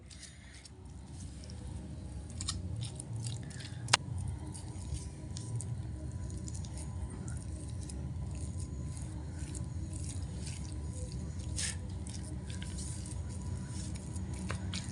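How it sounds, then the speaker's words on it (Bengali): A spoon mashes boiled cauliflower and potato together, producing a faint, continuous soft squishing and patter with a few light clicks against the bowl, close by and without talk. "এবার সবকিছু একসঙ্গে একটা চামচ দিয়ে মেখে নেব"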